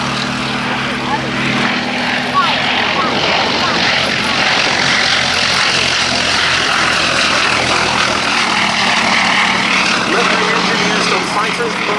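A 1930s Gloster Gladiator biplane's engine drones loudly and steadily, a continuous propeller roar at an airshow that fills the whole stretch without letting up.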